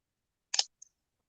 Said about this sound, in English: just listen to this clicking